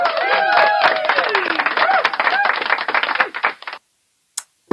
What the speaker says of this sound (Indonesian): Ya tepuk tangan dulu untuk kita semua.